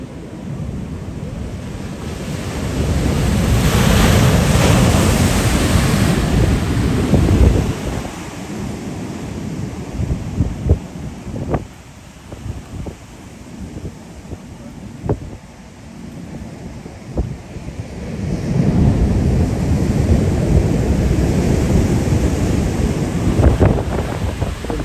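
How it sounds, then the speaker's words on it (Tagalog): Ocean waves wash ashore at Imperial Beach pier in San Diego, California, two broad surges of surf rising and receding with wind buffeting the microphone between them. "Yung alon na yan."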